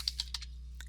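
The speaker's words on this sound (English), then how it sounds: "So when we type name" Quick keystrokes on a computer keyboard, four or five soft close clicks in under a second over a steady low hum.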